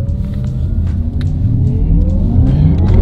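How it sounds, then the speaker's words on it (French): Porsche Taycan electric car pulling hard from inside the cabin, a rising whine and low road rumble building steadily in pitch and loudness over a few seconds. "Donc on va faire une petite accélération."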